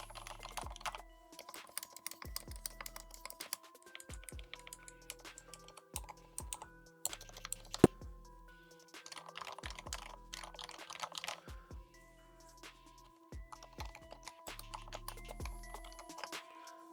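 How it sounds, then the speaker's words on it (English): Typing on a quiet custom mechanical keyboard fitted with silent linear switches, a steady run of soft, muted keystrokes in bursts with short pauses, close up and without talk. "I tried to build a quiet keyboard"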